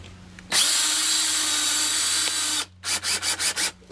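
A power drill drives screws into J rail trim, one sustained loud whine for about two seconds followed by five short, rapid bursts as the screw is snugged down, close up with no talking.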